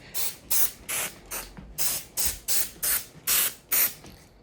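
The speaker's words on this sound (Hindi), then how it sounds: "एंड में खुशबू के लिए हम ये स्प्रे कर देंगे।" A fragrance spray is pumped around a room in about ten short, crisp hissing bursts at a steady rhythm, close and fairly loud, with no talking.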